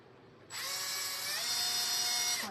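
Power drill boring a hole into a dried gourd craft figure: after a quiet start, a high whining drill spins up and holds a steady shrill tone for about two seconds, then stops abruptly.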